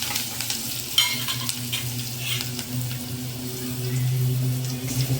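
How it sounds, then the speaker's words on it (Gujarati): Chillies being stirred into a mixture in a frying pan while preparing garlic rotlo: a continuous sizzle with scraping stir strokes, close and steady, with no talking. "તેમાં મરચાં નાખી દેશું બધું બરાબર મિક્સિંગ કરી લેશું"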